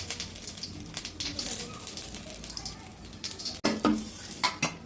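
Bay leaf, cumin seeds and garam masala fry in hot oil for a pointed gourd korma, a steady close sizzle broken by scraping stirs and a few sharp clatters of a utensil against the pan.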